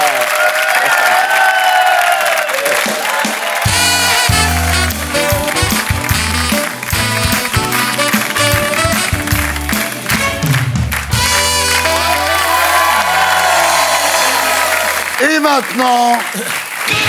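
Studio audience applause on a French television talk-show set, a steady wash of clapping that runs throughout, largely covered by loud music with a thumping bass line and by people talking over it.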